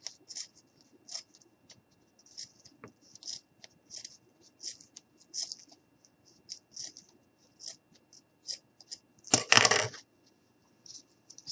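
Scissors cut away excess material on a handmade gnome with a run of small, quiet, crisp snips. Near the end comes one louder rustling crunch of handled material.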